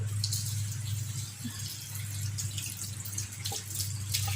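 Steady running tap water splashes continuously onto blanched tomatoes in a sink, a constant hiss with a low hum underneath and no voices.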